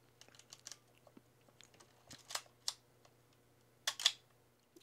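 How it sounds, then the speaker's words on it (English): A Canon AE-1 film camera is handled close up, with a few sharp mechanical clicks from the shutter release among quieter fiddling and tapping noises, faint against a low steady hum, with no talking. "see, now you can release the shutter"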